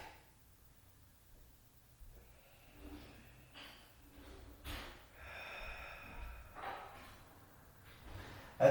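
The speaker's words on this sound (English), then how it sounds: "I'm just taking a few deep breaths" Slow, deep breaths during a yoga forward fold, soft drawn-out inhales and exhales up close in a quiet room, a few longer airy breaths rising and falling.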